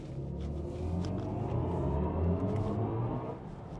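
A BMW i4 M50 electric car accelerates with its synthesized Hans Zimmer drive sound, a steady, full, humming rumble that swells slightly and then eases, heard from inside the cabin with no talking.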